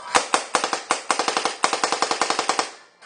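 Custom Ion paintball marker firing in semi-auto, an irregular string of about twenty sharp pops in quick bursts, close and loud with nothing else heard.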